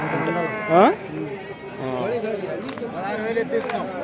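A sheep bleats loudly once with a wavering, quavering cry, followed by further softer bleats from the flock amid background chatter and rustling at a sheep and goat market in Kadiri.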